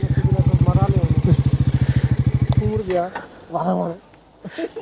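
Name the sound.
motorcycle engine on a rural road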